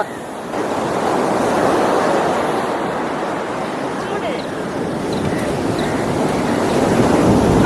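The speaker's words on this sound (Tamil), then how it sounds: "பிள்ளையார் பீச்சுக்கு கொண்டு வந்தாச்சு" Ocean surf at a beach during a Ganesha idol immersion: a loud, continuous roar of breaking waves with gusty wind noise on the microphone throughout.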